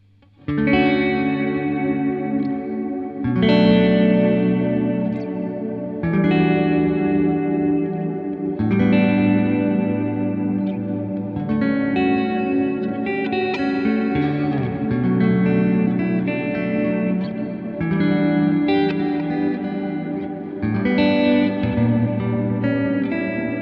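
Guitar chords ring out through a Crazy Tube Circuits Splash MK3 reverb pedal in exciter mode, each strum blooming into a shimmering, lingering tail, several chords in a slow sequence.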